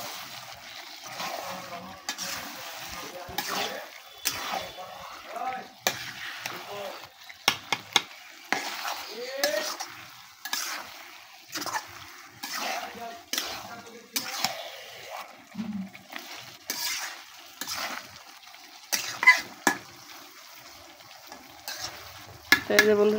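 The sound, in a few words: beef stirred with spices in a pot on clay stove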